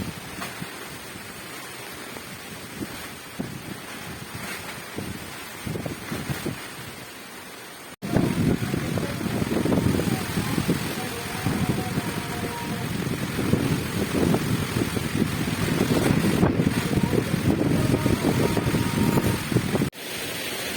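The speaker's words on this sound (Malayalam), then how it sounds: "അതിനിടയ്ക്ക് നല്ലൊരു കൊടുങ്കാറ്റ് പോലെ വന്നു" Strong stormy wind gusts in Malappuram, recorded from inside a kitchen, giving a dense roaring rush that drops away sharply, then returns louder and steadier for the rest of the clip, with no one talking.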